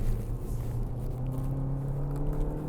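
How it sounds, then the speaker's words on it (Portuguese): A Jeep Compass 80 Anos engine pulls hard uphill on a winding mountain road, giving a steady, loud, low rumble with a constant droning tone and no voices. "Apertando fundo no acelerador, ela responde super bem."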